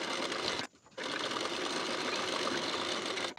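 A sewing machine runs a pressed stitch along the edge of a blouse waistband, its steady close whir briefly stopping near the start and again at the very end, with no talk.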